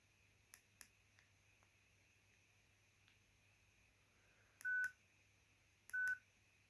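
A COSUN 9958 Chinese mobile phone sounds two short keypad beep tones a little over a second apart as it is unlocked. Faint button clicks come earlier, all quiet and close.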